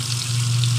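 Garlic and onion fry in hot oil in a pan, a steady close sizzle with a constant hiss and no talking.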